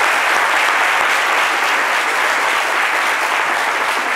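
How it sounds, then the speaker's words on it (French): Loud, dense audience applause on a French-language midday TV talk show, a continuous wash of many hands clapping that holds steady throughout. "Et je voudrais qu'on applaudisse encore pour la situation."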